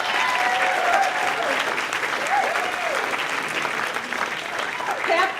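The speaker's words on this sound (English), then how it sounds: "Please applaud for that one" A theater audience at a film premiere event claps steadily, a full sustained burst of applause with some voices and cheers mixed in, staying strong across the whole stretch.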